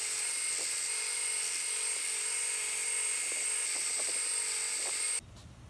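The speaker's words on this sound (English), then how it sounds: "get the deeper file gouges out, and then use the hand sander." A high-pitched whining power tool, steady and close, runs continuously on metal work for a WWII belt display, holding an even tone before cutting off abruptly near the end.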